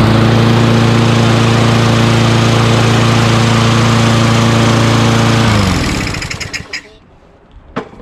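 A Craftsman 21-inch rear self-propelled lawn mower with a 6.5 HP Tecumseh engine runs at full throttle, loud and steady and close by, then shuts off and sputters down to quiet.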